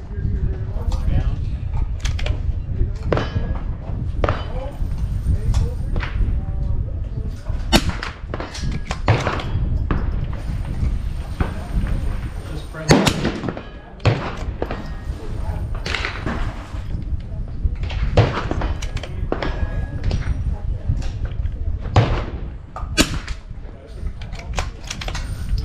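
Vudoo 360 rifle firing at a benchrest target outdoors in wind, a series of sharp, separate cracks spaced several seconds apart over steady wind noise, with someone talking in between.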